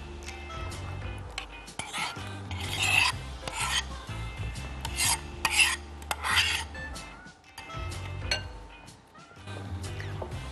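A spoon scrapes and rubs around a bowl of yogurt in uneven bursts, with soft clinks, fairly close, and stretches of quieter stirring between.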